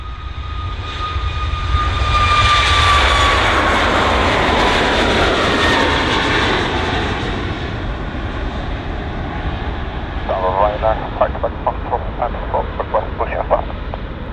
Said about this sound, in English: Clear for takeoff, runway 27